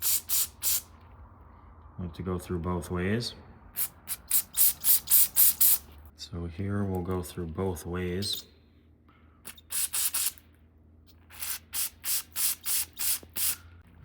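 Repeated short hissing bursts of aerosol carburetor cleaner sprayed into a Honda lawn mower carburetor's jets, in quick pulses, with someone talking in between.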